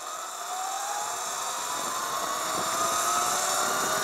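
An electric motorcycle riding along with regenerative braking engaged off the throttle, giving a steady high motor whine layered over rushing wind that gradually grows louder.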